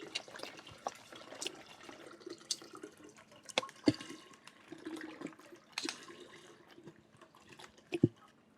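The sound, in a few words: C2O coconut water being poured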